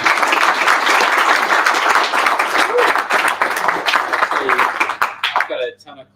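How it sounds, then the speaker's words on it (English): An audience at a tech meetup in Sydney applauds steadily and loudly for several seconds, with voices mixed in, before the clapping tapers off. "Yeah, round of applause."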